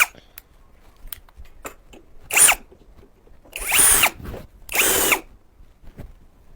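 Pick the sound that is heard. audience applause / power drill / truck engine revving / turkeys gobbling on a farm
power drill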